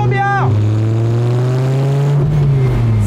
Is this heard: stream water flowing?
no